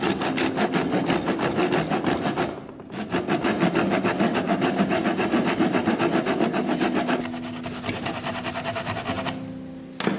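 A hand saw cuts the small points off a wooden piece clamped in a vise, rapid close rasping strokes in a steady back-and-forth rhythm, with one brief pause before the sawing resumes.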